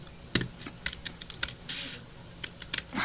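Paper is cut for a homemade paper pistol slide, giving a series of quiet, close, irregular crisp snips and clicks over a soft background.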